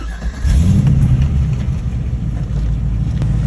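A Chevrolet C5 Corvette engine cranks and fires up close by, settling into a loud, deep, rumbling idle that holds steady for a few seconds.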